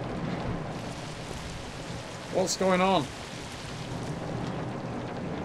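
Steady rain with distant thunder fills the Zombi video game scene, a constant wash of noise throughout, with a brief spoken line breaking in near the middle.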